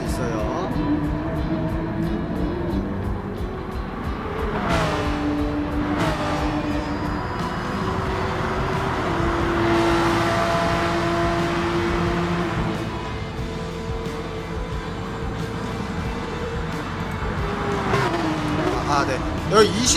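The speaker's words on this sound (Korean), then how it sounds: "포르쉐 911 차량을 끌고 어, 나란히 달려주고 계시는 모습을" Porsche 911 cars racing side by side in the Gran Turismo video game, a steady engine drone with gear shifts and rising revs, continuous and fairly loud under game sound.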